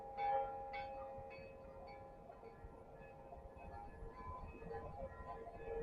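Faint bell tones ring out at a distance in Mazara del Vallo, Sicily, resonant and sustained over a low background rumble, with a few soft strikes early on.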